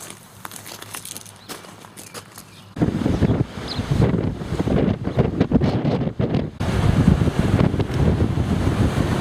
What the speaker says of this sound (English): It's a breezy day today